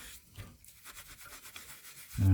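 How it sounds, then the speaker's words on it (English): A fine brush scrubbing an antique cast iron door lock in short, rapid back-and-forth strokes, a soft dry rasping up close, ending in a brief louder knock. "Now we will need a fine brush to get into those decorative parts"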